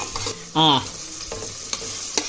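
Onions fry in oil with a spoonful of salt for a Rayalaseema chicken majjiga pulusu: a soft background sizzle, scraping stirs, and one brief ringing metallic tone near the start.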